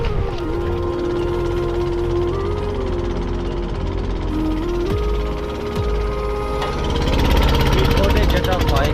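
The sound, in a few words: speedboat engine running over waves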